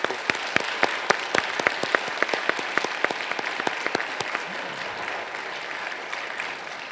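Audience applause at a law school swearing-in ceremony welcoming new bar applicants, a clear run of hand claps that starts sharp and dense, then thins and fades into softer scattered clapping over several seconds.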